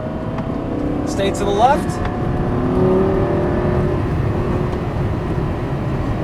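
A Lamborghini engine accelerates hard on a race track with a steady rising drone inside the cabin, largely beneath an instructor's continuous talk.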